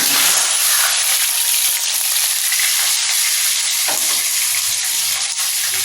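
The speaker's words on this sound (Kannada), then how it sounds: "ಇವಾಗ ಈರುಳ್ಳಿ ಮೆಣಸಿನ್ಕಾಯಿ ಕಟ್ ಮಾಡಿ ಇಟ್ಕೊಂಡಿದ್ನಲ್ಲ ಅದನ್ನು ಹಾಕ್ತಾಯಿದ್ದೀನಿ" Chopped onion and green chillies sizzling and crackling steadily in a hot pan for wheat upma, with occasional stirring scrapes and small pops under a continuous frying hiss.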